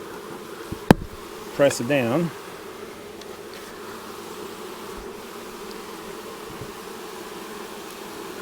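Honeybees hum steadily inside a seven-frame nuc as smoke is puffed over the frames, a faint continuous drone with a knock and a short voice partway through.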